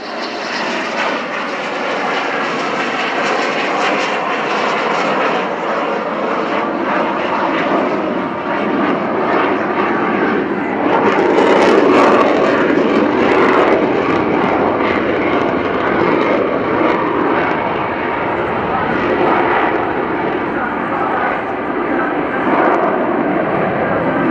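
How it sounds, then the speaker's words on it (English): A fighter jet's Pratt & Whitney F100-229 engine runs up to full throttle at the RIAT Fairford airshow, a loud, sustained roar that swells around the middle and keeps booming without a break. "Zippity will push up the throttle to show you the full power of the Pratt & Whitney F100 229 version"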